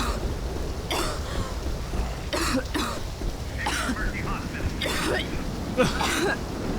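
Repeated throaty coughs from a character in Left 4 Dead come in short bursts over a steady rumbling background, with a voice talking in between.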